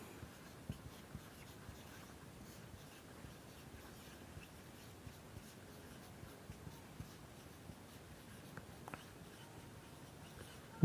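A pen scratches steadily on paper while someone works through math equations. The writing is close and faint, a continuous soft scribble with small taps, and there is no voice.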